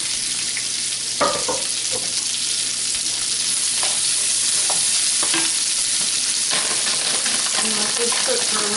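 Onions and macaroni frying in a pan, a constant loud sizzle with occasional scraping and stirring knocks from a utensil close by.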